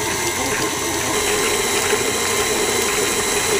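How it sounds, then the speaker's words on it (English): An electric mixer whirs steadily at medium speed while beating banana cupcake batter, giving a loud, constant close-up drone with no pauses. "I'm going to turn my mixer on medium-low speed"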